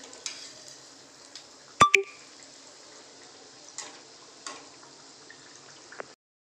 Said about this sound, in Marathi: दुसऱ्या बाजूने आपल्याला छान वडे तळून घ्यायचे आहेत